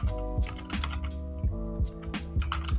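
Rapid keystrokes on a computer keyboard as a short word is typed, with a brisk uneven rhythm of close, crisp clicks and a few heavier key thumps, no voices.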